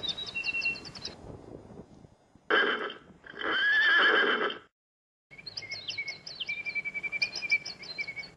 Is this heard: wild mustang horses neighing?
yes